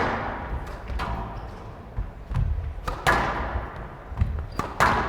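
Squash ball struck hard during a professional match at the 2014 Tournament of Champions, a series of sharp, loud thuds at a fast rhythm echoing in a court over steady crowd and arena ambience.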